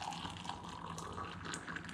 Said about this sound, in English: And I'm going to come over and get some hot water. And we're going to fill up this cup